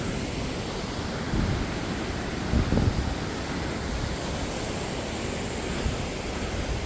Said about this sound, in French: Les cascades.